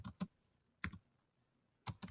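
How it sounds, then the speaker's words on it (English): Three separate bursts of typing on a computer keyboard, each a quick pair of clicks, spaced out across a quiet room with no talking. "So the first thing I want to be able to test is typing."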